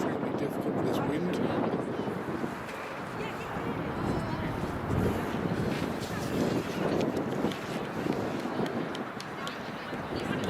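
Strong wind buffets the microphone at a women's rugby match between North Bristol and T-Birds, a continuous rough rumble and gusting roar with voices audible underneath.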